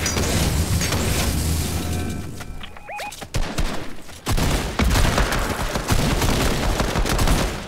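Gunfire in a Fortnite match with a sniper firing: a dense barrage of loud cracks and booms, a brief lull with a few sharp isolated shots, then continued heavy bursts to the end.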